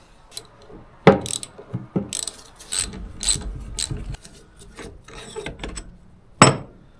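Hand tools clicking, ratcheting and scraping against metal while the end cap is worked off a starter motor from an old tractor dozer left abandoned in the woods for years; irregular close knocks and rasps with a sharp clank near the end.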